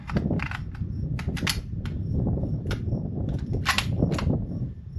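Suppressed 6.5 PRC rifle firing supersonic fouling rounds, heard as sharp broadband cracks over a dense, steady outdoor roar at a range, with no clean gaps between reports.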